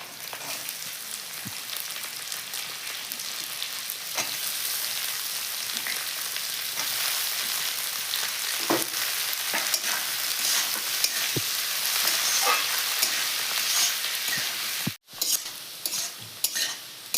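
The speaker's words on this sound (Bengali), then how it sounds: "ফুলকপিটা কিছুক্ষণ ভাজে নিচ্ছি, এখন আমি দিয়ে দেবো কেটে রাখা বিনস।" Cauliflower and chopped beans fry in a pan for egg vegetable chowmein, giving a dense, continuous close sizzle with occasional stirring scrapes and utensil knocks, and one brief dropout near the end.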